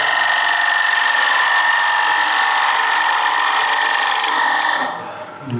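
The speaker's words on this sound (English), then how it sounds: "I'm going to go to the 60-degree gouge and I'm going to take away this bolt out of the way" A 60-degree gouge cuts wood on a lathe at a woodturning seminar, a steady, loud, close hissing scrape that holds for about five seconds before easing off.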